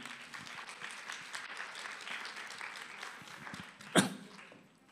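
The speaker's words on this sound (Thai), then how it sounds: "ปรบมือกับสี่คนนี้" A church congregation claps for four people, giving soft, fairly distant and steady applause for several seconds that ends with one sharp louder clap and then fades.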